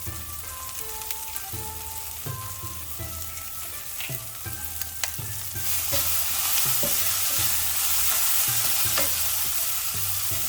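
Spring onion sautéing in a pan for an egg scramble gives a steady close sizzle, broken by repeated scraping knocks of a utensil stirring, the frying hiss growing louder and brighter in the second half, with no talk.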